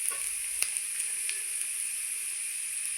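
Chopped green chillies and onion fry in a pan for chicken kachori filling, producing a steady hissing sizzle with one sharp utensil tap near the start, with no voices.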